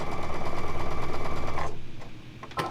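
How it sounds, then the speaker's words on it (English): A sewing machine stitches across quilt blocks with a fast, steady mechanical chatter, then slows and stops near the end, followed by a brief handling noise. "so I'm just sewing across"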